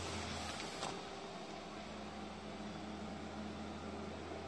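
Steady whirring hum from the medium-sized blower fan of a 4.5-foot Gemmy airblown Halloween graveyard zombie hand inflatable, running continuously and fairly close with a constant low drone.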